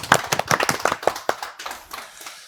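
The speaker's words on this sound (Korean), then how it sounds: "역시 박수 쳐야죠. 박수 주시죠." Scattered hand clapping from a small studio audience at a university intellectual-property quiz show, a few brisk claps thinning out after about two seconds, fairly close and without talk.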